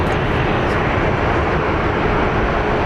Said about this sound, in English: over here we have a Southwest going into the gate, being guided in